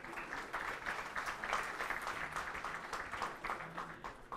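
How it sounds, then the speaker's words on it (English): Sustained audience applause at a book launch: dense, steady clapping from a crowd that holds an even level for several seconds without letting up. "May we have a huge round of applause for him."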